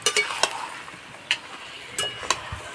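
Tomatoes for a pickle being stirred in a pan, a few separate scraping and clinking strokes spaced irregularly over a quiet background, with no talking.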